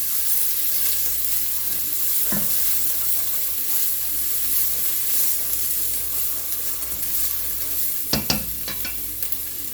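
Onions and vegetables sizzle steadily in a pan over turned-down heat for caramelizing, with a soft scrape of stirring near the start and a few sharper clinks of the utensil toward the end; no one speaks.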